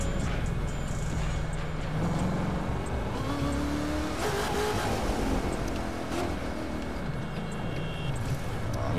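Corvette C7 ZR1 engine in The Crew 2 racing game, a steady droning engine note with shifting revs and tire noise under continuous background sound, no clear talking.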